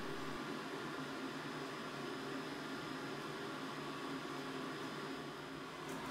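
Petietec Handily-2 hands-free pet hair grooming dryer for a shih tzu blows steadily, a constant close airy whoosh with a faint motor hum and no talking.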